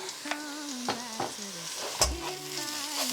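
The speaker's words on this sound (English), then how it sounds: "Then we stir some more." A spoon stirs through vegetarian pilau frying in a pan after chili powder is added, with soft scraping strokes over a low sizzle and a sharper clack partway through, no talking.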